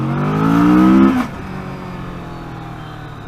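A Honda Amaze car passes nearby with a rising engine hum that peaks, then drops sharply as it goes by, leaving a lower fading road rumble.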